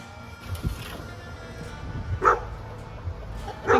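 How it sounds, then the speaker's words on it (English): Several farm dogs barking outdoors, a few scattered, moderately loud barks at irregular intervals, some nearer and sharper, over low background noise. "There's literally like 5 dogs, you guys."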